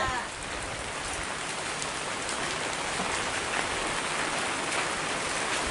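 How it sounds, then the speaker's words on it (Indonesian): A sudden heavy downpour drums on a countryside village, a steady, dense, close hiss of rain that fills the whole stretch with no speech over it. "sekarang turun hujan, aduh"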